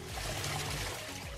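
Water trickling and splashing steadily into a washing machine tub during a test after repair, with a low mechanical hum underneath.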